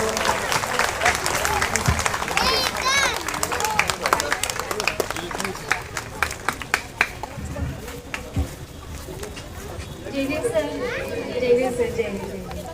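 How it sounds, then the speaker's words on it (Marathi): A crowd claps and cheers loudly, welcoming Anandraj Ambedkar as people stand, with chatter and children's voices mixed through the sustained applause. "सर्वांनी आपण उभे राहून टाळ्या वाजवून त्यांचं स्वागत करावं"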